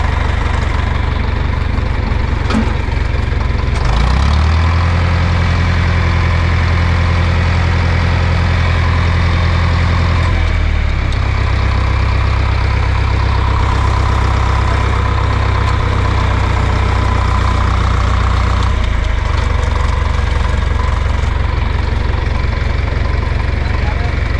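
A loud tractor engine rumbles steadily up close, its low chugging drone swelling and easing slightly as it works.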